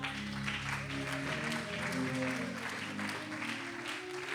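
A church congregation at a Sunday service applauds steadily and loudly, the clapping holding an even, dense texture throughout as a sustained crowd sound with tonal voices or music blending underneath.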